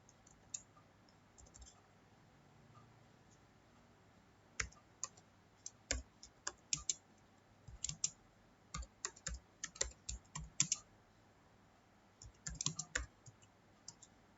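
Keys clatter on a computer keyboard as an HTML program is typed into Notepad, in irregular bursts of quiet close clicks that grow busier after a brief near-silent start.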